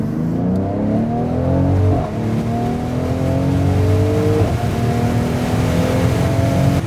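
A Mercedes-AMG switched into Sport Plus mode pulls hard, its engine note climbing through loud, continuous rising harmonics with a brief dip at each gear change, close and without talk.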